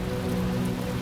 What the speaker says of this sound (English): Is it raining in here now?